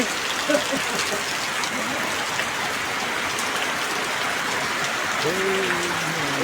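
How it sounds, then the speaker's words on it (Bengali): Heavy rain pours down in a Bangladeshi village as a dense, steady hiss of drops striking surfaces nearby, continuous throughout, with faint voices in the background. "প্রচুর বৃষ্টি ধুমা বৃষ্টি হচ্ছে এখন"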